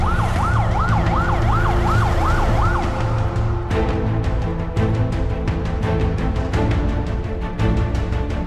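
An ambulance siren wails in a rapid rising-and-falling pattern, loud and near, then gives way to a dense, harsh mechanical noise with rapid clicking pulses over a low road rumble.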